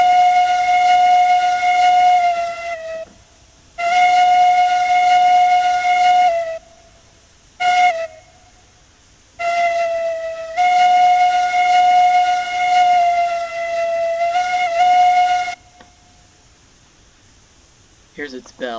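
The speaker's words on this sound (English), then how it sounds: "Here's her whistle performing the grade crossing signal." A model steam locomotive's whistle blows the grade crossing signal: two long blasts, one short toot, then a final long blast. The steady tone is loud and close.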